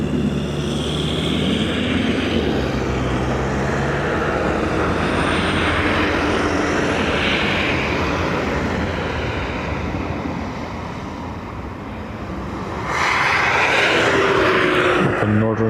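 An Aer Lingus airliner arriving at Dublin Airport from Santiago de Compostela gives off a continuous, heavy engine roar with a brief dip before it grows loud again near the end.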